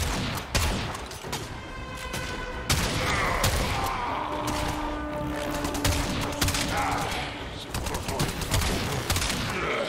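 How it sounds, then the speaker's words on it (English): Dense, rapid gunfire in the video game Warframe crackles as Mesa's bullet shield reflects the shots back at enemies, with loud overlapping bursts throughout and game voices partly heard. "Bullet shield on. It reflects bullets back to the enemies."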